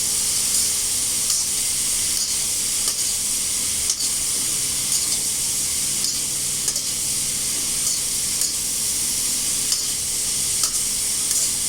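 Pumpkin frying in hot oil in a pan on the stove gives a loud, steady sizzling hiss that runs unbroken from start to finish, with faint crackles and no voices.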